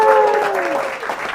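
A small audience claps and cheers in brief applause, starting loud and fading over a second, with a voice cheering over it.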